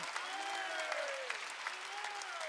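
Congregation clapping during a Korean church Wednesday worship service, rapid crowd clapping sustained throughout, with a preacher's voice sliding up and down over it.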